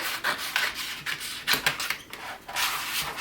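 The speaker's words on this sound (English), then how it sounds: "So I'm going to trim off this extra right here on the side." Scissors or a blade trim the excess edge off an Infusible Ink transfer sheet, producing close, dry rasping and rubbing bursts of paper cutting that come in several short strokes, with no talk.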